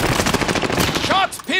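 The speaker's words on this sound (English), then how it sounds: "Taking fire." Rapid automatic gunfire in the 2019 Call of Duty Modern Warfare game, a dense, loud burst of shots that runs continuously and then breaks off near the end, with a couple of ringing metallic tones after it.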